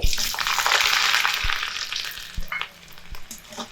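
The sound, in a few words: garlic cloves and black cumin frying in oil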